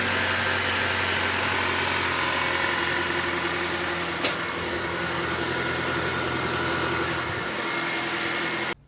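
A rebuilt, previously seized engine in a 2012 Acura TSX idles with a steady, even drone, heard up close and alone, before cutting off abruptly just before the end.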